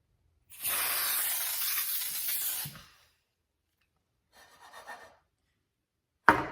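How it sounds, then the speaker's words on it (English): Aerosol baking cooking spray hisses in one long burst of about two seconds, followed by a shorter, softer spray and a brief sharp noise at the end. "we're just gonna be using some baking cooking spray"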